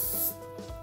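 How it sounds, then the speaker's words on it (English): A short burst of hairspray hisses from an aerosol can onto curled long hair in a bridal updo, one quick close spray that fades after a fraction of a second. "just give it a good spray of hairspray, especially along the length of the curl"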